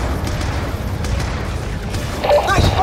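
Gunfire and booming blasts in a Black Ops 2 firefight, steady rumbling combat noise with a sharper flurry of shots toward the end.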